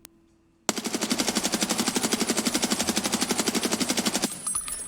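An AUG rifle in the video game Escape from Tarkov fires one long, rapid automatic burst of evenly spaced, loud, close shots, followed by a short tail of fading echo and no talk.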